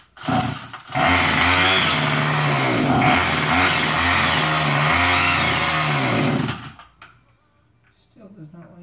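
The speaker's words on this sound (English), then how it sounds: "Gonna adjust how high it idles by like a turn and a half." A small engine runs after its idle has been raised about a turn and a half, giving a loud, buzzing, steady drone for several seconds before it cuts out abruptly. A voice can be heard faintly afterward.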